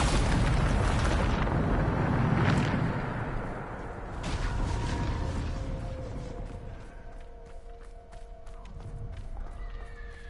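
A Bombarda spell explosion in Hogwarts Legacy goes off as a loud, deep, rumbling blast, followed by a decaying roar and scattered debris crackles and pings that trail off over several seconds.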